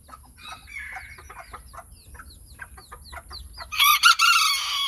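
Chickens cluck and chirp softly nearby, then a rooster lets out a loud, close crow near the end.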